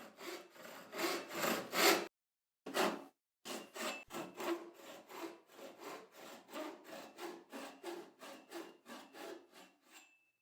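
A hand saw cuts wood down to a scribe line for a dovetail half lap, its steady back-and-forth strokes close and clear, with a short pause partway through and no talking.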